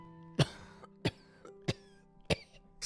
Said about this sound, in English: Stop coughing. We've heard enough.